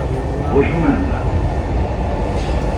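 Steady rumble of a Dubai Metro train in motion fills the carriage, broadband and continuous with faint rail clatter, with no clear speech over it.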